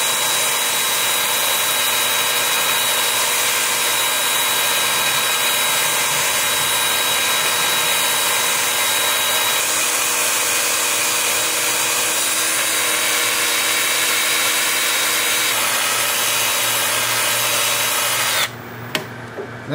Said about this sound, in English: we will do some sanding